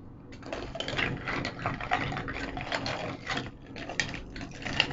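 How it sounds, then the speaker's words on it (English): Ice cubes dropped one by one into a glass of coffee mixed with condensed milk for a Spanish iced latte, giving sharp clinks and rattles at close range with no talking. "since I want an ice Spanish, I put one cube, second cube, three"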